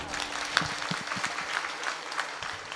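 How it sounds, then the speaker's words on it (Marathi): An audience at a temple kirtan claps loudly in a short burst of applause, the clapping dense at first and thinning toward the end. "जोरदार टाळ्या वाजवा."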